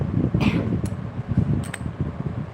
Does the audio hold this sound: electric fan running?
yes